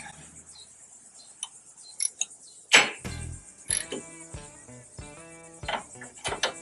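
A ratchet works loose the rusted, WD-40-treated bumper bolts on a Jeep Wrangler, close and clear, with a burst of rapid clicking strokes followed by a loud clank and then a series of spaced, uneven ratcheting clicks.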